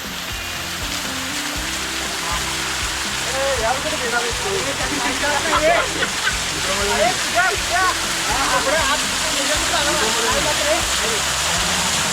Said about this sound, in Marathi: धबधब्याचा आनंद घेताना सगळे मावळे आहेत